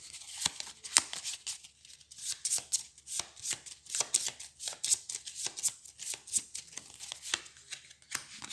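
Cards from the Xenoshyft card game are shuffled by hand in a quiet room, producing repeated riffling and snapping bursts in an uneven rhythm, close and fairly soft.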